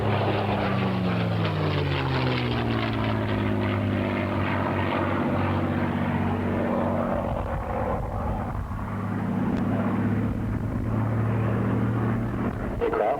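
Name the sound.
aircraft making a simulated ground attack pass at air show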